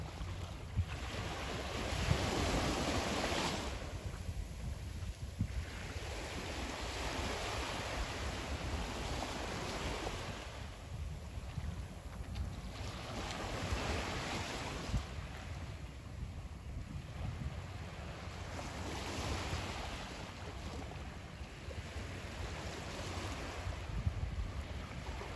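Ocean waves wash onto a Southwest Florida beach in slow, rolling surges, a continuous moderately loud roar with steady wind buffeting the microphone and no voices.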